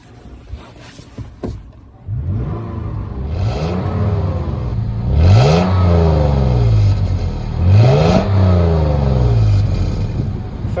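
A Toyota FJ Cruiser's V6 revs up under the open hood, settling into a raspy idle after a few clicks, then rising in three strong, repeated throttle blips with audible rise and fall, close and loud.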